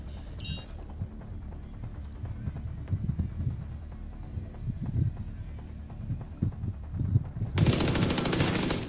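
Rapid automatic gunfire from an MP5 submachine gun in The Division 2 video game rattles steadily throughout as dense, close bursts, ending in a loud, bright wash of noise near the end.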